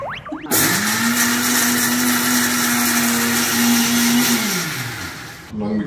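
A kitchen mixer grinder (mixie) starts up and runs loudly for about five seconds with a steady, high whirring drone, then winds down and stops, close by.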